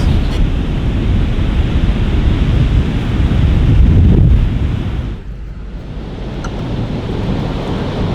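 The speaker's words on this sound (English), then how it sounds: "Eating the Atlantic whilst the Atlantic itself thunders away in the background" Atlantic Ocean surf pounding the Algarve coast in Portugal: a loud, steady roar of breaking waves mixed with heavy wind buffeting on the microphone. The roar eases briefly partway through, then builds again. No voices.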